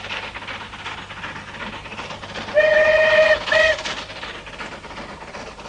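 A steam train whistle sounds in the distance on the Settle and Carlisle line in the hills, one long blast followed by a short one, over a faint low rumble.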